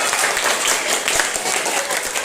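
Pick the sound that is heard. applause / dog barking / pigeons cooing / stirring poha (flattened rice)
applause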